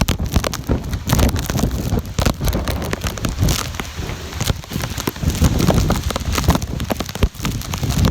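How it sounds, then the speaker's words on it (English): Hurricane-force rain pounds down with roaring wind gusts of about 80 mph buffeting the microphone, a loud, turbulent storm noise that surges and dips without letting up. "We got 80 mile per hour wind!"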